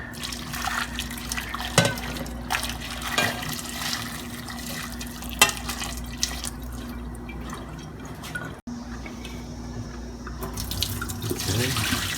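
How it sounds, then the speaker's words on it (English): Hot water poured from a kettle or pot over raw oxtail meat in a kitchen sink, a steady splashing stream with drips that stops briefly and resumes near the end, close and fairly loud with no talking. "I'm going to pour that hot water all over the meat."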